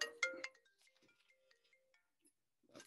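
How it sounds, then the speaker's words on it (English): A mobile phone rings out with a bright, tonal electronic trill, a loud opening burst then thinner repeating notes, sounding close and alone before a soft rustle near the end. "That's my phone, I'm afraid."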